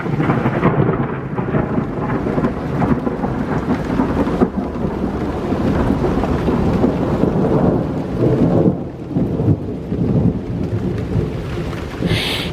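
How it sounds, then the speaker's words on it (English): Heavy rain pours steadily with deep rolling thunder rumbling throughout, a loud, dense storm close by with no voices. "this rain's getting, it's whipping even more now"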